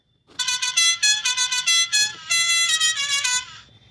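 An air horn prank sound effect blasts in a loud, close series of short honking bursts, with brief gaps between them and a longer sustained stretch near the end.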